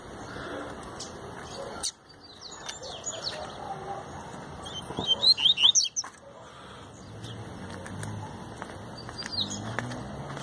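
Coleiro (double-collared seedeater) birds chirp near a cage set on the ground, with short bright tweets and a louder chattering burst midway over steady background noise.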